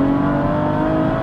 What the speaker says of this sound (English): The bombs come from the exhaust are completely different with ethanol in